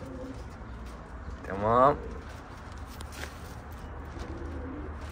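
Pigeons in a loft give a soft cooing call mid-clip over a low, steady background, with someone speaking briefly nearby and faint shuffling around the coop.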